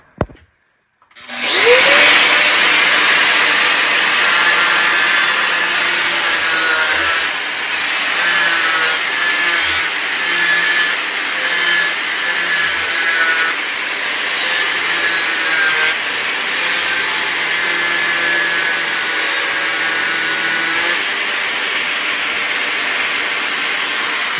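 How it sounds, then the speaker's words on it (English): A cutoff wheel grinds out a hole, starting abruptly and then holding a loud, steady high-pitched abrasive whine that wavers slightly in pressure throughout. "grind that out with a cutoff wheel."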